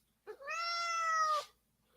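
A house cat gives a single clear, drawn-out meow close to the listener, rising and holding for about a second before cutting off in a quiet room.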